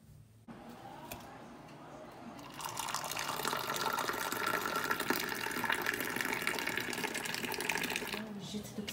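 Water runs from a shower as a constant, close hiss that begins almost at once and grows louder and fuller after a few seconds, then keeps pouring steadily.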